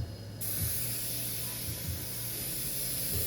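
An airbrush sprays paint colors in a second layer on an art piece, a loud steady hiss starting abruptly after a brief pause and continuing evenly to the end, close and alone.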